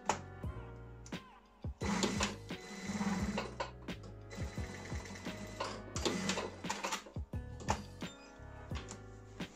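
A sewing machine stitches curtain fabric for a campervan in short bursts of rapid mechanical whirring and clatter, with sharp clicks and pauses between runs, close and alone.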